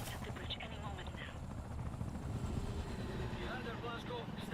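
A helicopter in the video game Wolfenstein: The New Order produces a low, steady rotor rumble throughout, with faint voices over the drone.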